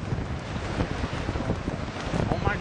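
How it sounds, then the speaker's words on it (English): Big ocean waves breaking at a beach, a loud continuous roar of surf mixed with heavy wind buffeting the microphone, rising toward the end. "Look at those big waves, Billy."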